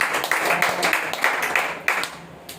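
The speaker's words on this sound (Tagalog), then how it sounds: "Maraming palakpak sa ating Panginoon." A church congregation claps steadily, dense applause with sharper individual claps standing out, fairly close and loud throughout.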